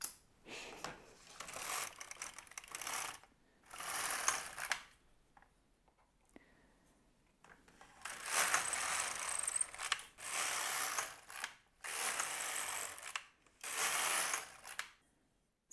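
Needles on an LK-150 knitting machine are pushed out into work in repeated bursts of close ratcheting, clicking metal, each lasting a second or two with quiet pauses between.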